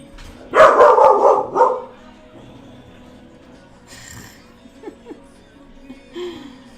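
A corgi lets out a loud, close burst of rapid barks lasting about a second, followed by quieter scattered indoor sounds and a few faint noises.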